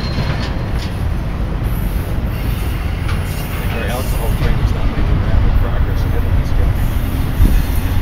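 A freight train rolling out of the rail yard at Belen, a steady low rumble and wheel noise that holds throughout and swells slightly midway, with people talking over it.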